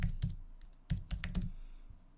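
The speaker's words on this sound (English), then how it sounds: "I'm just going to type in startups" Keys clatter on a computer keyboard as a search term is typed in, a short run of close, crisp taps in quick bursts with brief pauses between them, no talking.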